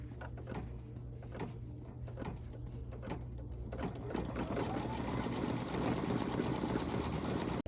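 A computerized embroidery machine stitches decorative layers on a quilt block in dark purple thread, a steady rapid mechanical chatter that continues throughout, with occasional knocks early on and a denser, fuller whir in the second half.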